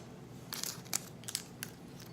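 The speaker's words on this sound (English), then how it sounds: "Let's take off this tape." Tape is peeled off a bottle of rye whiskey, giving soft, irregular crinkling and ripping bursts against a quiet background.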